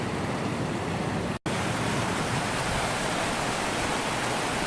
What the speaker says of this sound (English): This waterfall's over there.